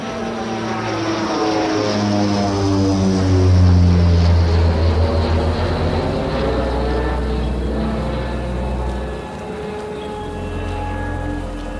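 A propeller airplane drones overhead, its engine pitch sliding downward as it passes close and loud, then fading slightly while the steady hum continues.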